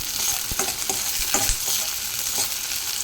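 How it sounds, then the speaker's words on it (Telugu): Onions, green chillies and curry leaves fry in a pan for a small-fish curry, giving a continuous bright sizzle broken by soft, irregular stirring knocks, with no talking. "ఇప్పుడు ఆనియన్స్ ఎగుతున్నాయి కదా పచ్చిమిరపకాయలు వేసుకుందాము ఇది కరివేపాకు వేసుకుందాము వేయించుకున్నాం మనం"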